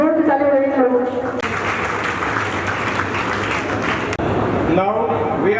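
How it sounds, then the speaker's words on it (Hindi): Audience applause at an annual award function for a coaching centre, a dense burst of clapping lasting several seconds between stretches of amplified announcer speech. "आप जोर से ताली बजाइए लोग।"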